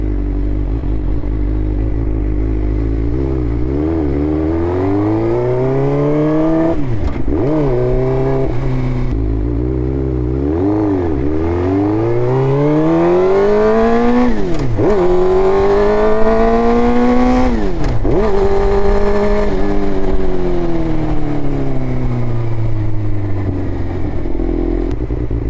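Suzuki GSXR600 motorcycle being ridden after an idle adjustment, its engine loud and close, rising and falling through repeated revs and gear changes with sweeping pitch climbs and sudden drops, with no talking.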